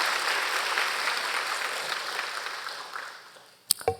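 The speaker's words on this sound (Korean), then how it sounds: "격려 박수 한번 보내주세요" A church congregation at a Sunday service claps together. The applause is steady at first, then fades over a few seconds and gives way to a couple of brief knocks.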